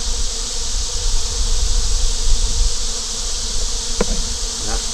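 Honey bees crowd outside their hive in the heat, their massed buzzing a constant, even drone, with a few small clicks near the end.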